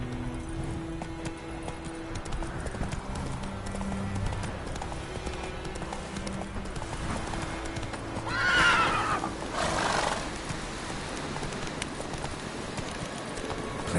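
In Witcher 3 a horse gallops with a steady clip-clop of hooves under ambient game sound and rain, and a whinny rises over it near the end.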